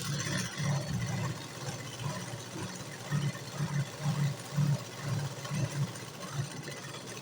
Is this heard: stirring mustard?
no